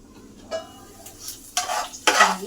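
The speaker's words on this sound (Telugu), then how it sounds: "ఇప్పుడు పెట్టుకున్న ఉల్లిపాయలు అయితే ఒకసారి మనం కలిపేద్దాం" Onions frying in a pan are stirred with a utensil in three scraping bursts, each brighter and louder than the last, over a faint background sizzle.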